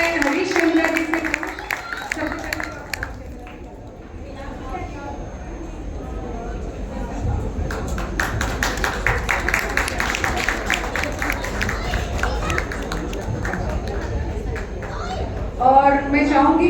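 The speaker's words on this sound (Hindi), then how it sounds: "इनके लिए बहुत जोरदार तालियां।" An audience at a Women's Day celebration applauds an honoree, producing sustained, dense clapping that runs for many seconds, with voices and a loudspeaker voice talking over it.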